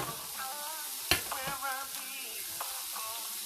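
Onions frying in a pan, a steady soft sizzle under occasional scraping stirs and one sharp clink of the utensil against the pan.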